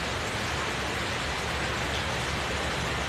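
Steady rain falls throughout, an even, dense hiss of drops with no breaks and no voices.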